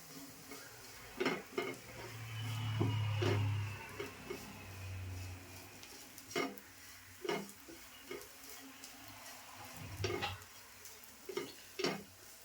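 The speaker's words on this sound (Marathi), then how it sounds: "आपल्याला वाटलेलं सगळं टाकायचं आहे त्याच्यामध्ये मस्त असं परतून घ्यायचं व्यवस्थित" Ground masala paste sautéed in a pan for a dried-fish sukat dish, heard as quiet, irregular scrapes and taps of a spoon against the pan over a faint low sizzle, with a brief low hum early on.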